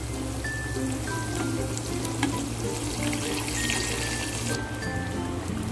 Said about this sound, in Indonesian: Akan saya goreng tempe terlebih dahulu.